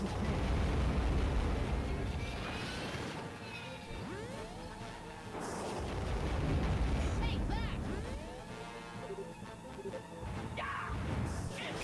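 An enemy blows up in the space combat game Star Fox Assault, with loud, rumbling explosion bursts and swooshing effects layered over continuous game sound while people talk over it.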